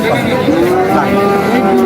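Cattle lowing at a bull and cattle market in Ambari, Dinajpur, a loud close moo sustained for nearly two seconds with faint crowd chatter behind.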